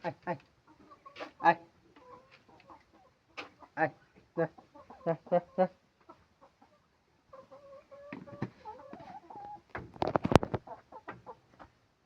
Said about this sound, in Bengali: মুরগিকে খাওয়ান দিলাম